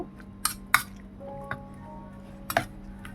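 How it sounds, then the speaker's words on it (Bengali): A spoon mixes shrimp and spices, including Kashmiri chili powder, in a bowl, giving a few crisp metallic clinks and taps against the bowl over a quiet background, with no talk. "সব উপকরণগুলো এবার ভালোভাবে মিশিয়ে নেব"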